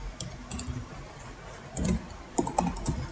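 Fast typing on a computer keyboard while entering company data into a table, with bursts of clicking keystrokes and short pauses between them, close and clear.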